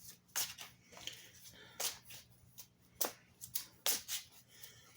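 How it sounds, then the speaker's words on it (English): Tarot cards being shuffled in quick, papery bursts with short pauses between riffles, close by and fairly quiet against a faint low hum. "Longest part of this is the shuffling."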